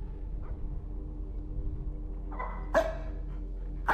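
Dog barks in a horror video game, a few sharp isolated yelps rising out of a low ambient drone, one near the middle and another at the very end, with no talking.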